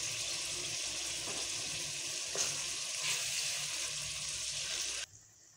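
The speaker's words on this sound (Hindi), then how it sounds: "अब दही डालने के बाद हम लोग इसकी मज़ीद भुनाई करेंगे जब तक कि ये दही का पानी खुश्क नहीं होता" Mutton keema with peas and yogurt sizzles in a pan as the yogurt liquid cooks off, giving a steady close hiss with a couple of soft stirring scrapes before it cuts out.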